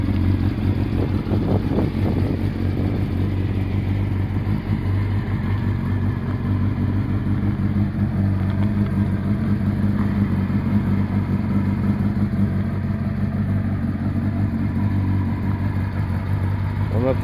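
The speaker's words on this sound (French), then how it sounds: "On entend bien la ligne 4 en 1 Yoshimura avec catalyseur supprimé." A motorcycle engine with a Yoshimura 4-into-1 exhaust and catalytic converter removed idles steadily with a deep, throaty rumble, continuous and fairly loud throughout.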